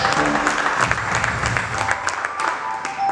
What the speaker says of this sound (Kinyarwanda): Tukomere Imana amashyi kandi bizina ryiza.